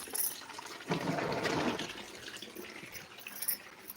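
Water from a household tap gushes for about a second as a short hissing burst that comes out dirty, then fades, leaving quiet room noise behind.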